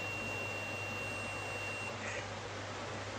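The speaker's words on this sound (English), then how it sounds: "buzzer sound will not come" A multimeter's continuity tester buzzes with a steady, continuous high-pitched tone that is close, sustained throughout and heard alone over a constant background hum.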